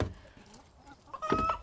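Chickens clucking inside their small house on a farm, a few soft close clucks and a brief louder squawk, no talking.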